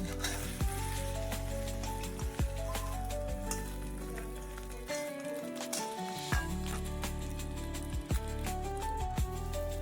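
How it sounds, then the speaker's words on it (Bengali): Steady sizzling of an egg frying in a pan, continuous crackle with occasional sharp pops and scraping stirs, close and alone. "এই তো আমার ডিম ভাজা প্রায় হয়ে গেছে।"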